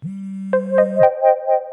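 A mobile phone rings with an electronic tone: a held low note, then a string of short, brighter chiming notes, clear and alone.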